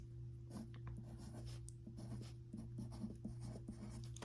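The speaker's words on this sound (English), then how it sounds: "what I'm going to start doing is I'm going to start by drawing 12 lines." A pencil scratches out lines along a straight edge for abstract shading practice, giving quiet, close, repeated strokes of dry scratching over a low steady hum.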